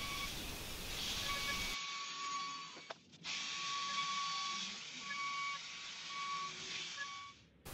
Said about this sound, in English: here I'm adding a roundover to all the edges